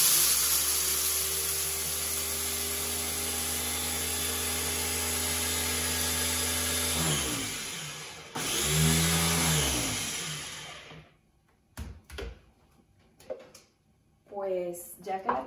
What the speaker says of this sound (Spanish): las voy a moler un poquito primero para que esté la consistencia, pues, de harina igual que la almendra.